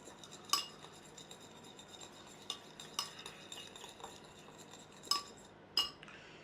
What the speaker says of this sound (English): We're just going to give it a little mix